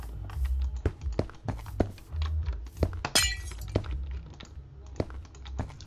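Glass-breaking effect in Minecraft, a bright shattering burst amid steady clicks and thumps of gameplay, with the crash standing out loudly for a moment.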